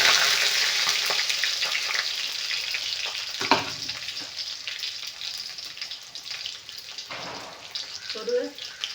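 Garlic and curry leaves sizzle in hot oil with a steady, bright frying hiss, joined by a few stirring clatters and soft clinks.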